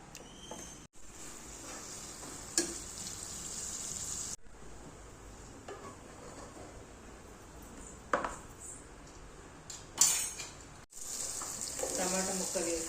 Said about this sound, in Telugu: కొంచెం బటర్ వేసుకొని ఈ సన్నగా కట్ చేసుకున్న పన్నీర్ ముక్కలు దూర రంగులో వేయించుకోవాలి.